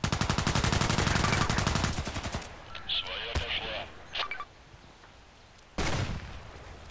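Rapid automatic gunfire from a Contract Wars online shooter rattles loud and near for over two seconds, then a few scattered single shots follow, with a final short burst near the end.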